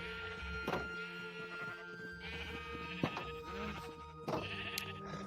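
Sheep in the Minecraft video game bleat several times, with loud calls near 0.7, 3 and 4.4 seconds over a steady layer of game music and ambience. No one speaks.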